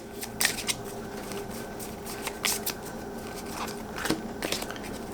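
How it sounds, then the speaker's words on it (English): Cards for the board game Paper Tales are shuffled up close. Several crisp riffling bursts sound over about five seconds, with quieter handling in between. "I'm going to go ahead and shuffle these up."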